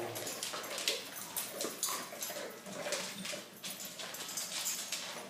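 Several dogs whimper and yip while waiting for dinner, a string of high, nasal whines and short cries coming in uneven bursts, close by and fairly quiet.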